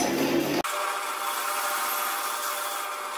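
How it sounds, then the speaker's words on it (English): A bandsaw cuts into a wooden piggy bank blank, a loud close whirring, rasping drone that shifts abruptly near the start and then holds steady as the blade runs through the wood. "The easiest way to do this is to just cut in with the bandsaw straight down that line"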